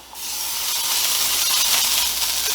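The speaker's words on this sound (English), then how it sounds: "I'm going to lightly oil the pan with some pan spray." A steady, close hiss of extra virgin olive oil cooking spray onto a pan that starts abruptly and continues without pause for a couple of seconds.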